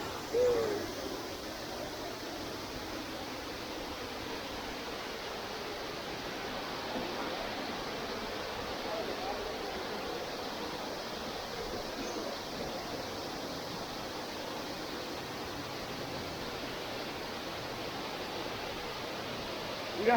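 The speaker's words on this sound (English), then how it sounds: "All right, welcome to the waterfall." A waterfall in a Philippine province produces a steady, broad rushing roar that continues unchanged for the whole stretch, heard from a moderate distance with no voices.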